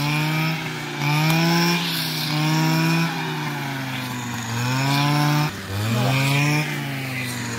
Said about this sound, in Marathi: गवत कटिंगचं काम चालू आहे.